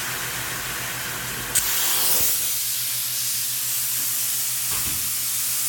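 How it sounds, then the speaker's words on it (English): A spray foam gun sprays insulation foam with a continuous loud, close hiss and a low mechanical hum underneath, interrupted briefly by a click before the spray carries on steadily. "So we're spraying foam all day long."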